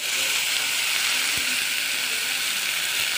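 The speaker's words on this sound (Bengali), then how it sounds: "তো এখন এই সময় পানি দিয়ে দিব।" Water poured into a pan of curry that has been fried well with spices sets off a loud, steady sizzling hiss that fills the short stretch without pause, with no voices over it.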